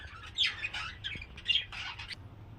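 Budgerigars kept in a home aviary, including yellow-face spangle and normal birds, squawk and chirp in quick, overlapping bursts close by, with no voices.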